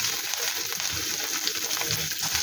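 Chopped onion and capsicum sizzling in a pan with ginger and garlic, a steady close frying hiss with faint stirring scrapes throughout.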